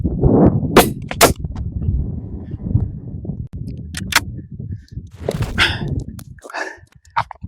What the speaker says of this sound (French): ces 2 tirs étaient de piètres exemples de tirs de précision